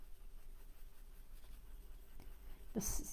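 A coloured pencil shades across drawing paper in a soft, faint, steady scratching close to the microphone, ending with a brief louder knock.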